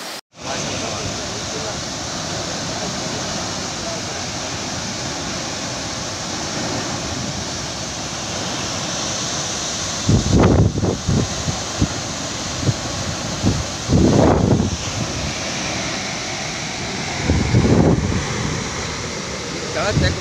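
Water released from a dam on the Malaprabha river makes a steady, loud broadband roar throughout, with intermittent bursts of nearby voices and handling noise over it in the second half.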